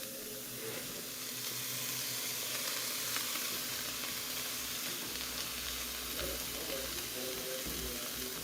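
Broccoli and fresh garlic sauté in a pan, giving a faint, steady sizzle with occasional soft stirring, quiet and even from start to finish.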